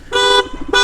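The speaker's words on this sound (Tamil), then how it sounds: "ஒரு பஸ் ஹார்ன் வச்சிருக்காரோ?" Two loud, blaring horn blasts from a vehicle on a cold Munnar road, a long honk followed by a short second one, close and dominant.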